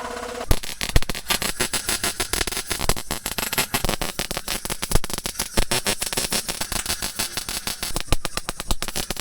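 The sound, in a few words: welding a floor patch on a Datsun 620 truck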